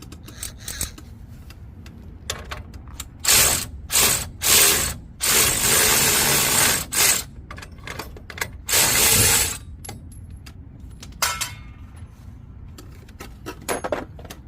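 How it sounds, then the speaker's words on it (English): Close, loud bursts of ratchet clicking while loosening a 21 mm castle nut on a Dodge Ram 1500 truck during lift kit installation, several separate runs with pauses and metallic clanks between. "we're gonna go ahead and take this top castle nut off right here."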